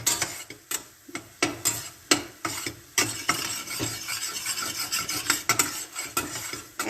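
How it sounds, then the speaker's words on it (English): Flour being stirred in melted ghee in a pan, a steady rasping scrape of spoon against metal with irregular repeated strokes and faint sizzling underneath, close and fairly loud. "Keep stirring, you can see it's becoming light."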